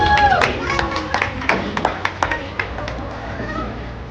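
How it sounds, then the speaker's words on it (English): Scattered outdoor clapping from an audience at a horse park event welcoming back a horse parade, sharp irregular claps over crowd murmur and talk, moderately loud. "get your hands clapping and let's welcome back the parade"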